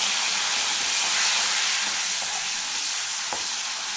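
Tomato fries in oil seasoned with Kashmiri chili powder, giving a steady, loud, bright sizzle and hiss that carries on without a break, with faint pops and ticks scattered through it.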